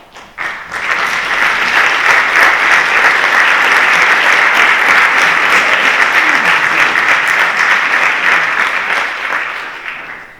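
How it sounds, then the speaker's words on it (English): An audience at a cannabis investment event applauds board members who stand to be recognised. A loud, sustained wave of clapping rises quickly, holds steady for about ten seconds, then tapers off. "I'd like them to stand up for a big applause."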